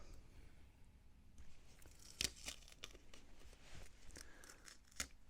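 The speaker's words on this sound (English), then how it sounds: "Now I'm pulling from the top down because that's how I've layered the masking tape" Masking tape peeled from a camouflage-painted 1/6 scale Armortek Hetzer Jagdpanzer 38 model tank: a few short, close tearing and crinkling rips, with two sharper strips standing out, over quiet room noise.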